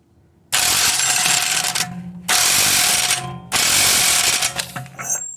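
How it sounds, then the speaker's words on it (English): Impact wrench rattling loudly as it tightens a 32 mm 12-point rear axle nut on a BMW E61, in three long bursts separated by brief pauses, close up and with no talk. "This this particular wrench will only produce about 300 foot-pounds of tightening torque, so it's not going to overdo it."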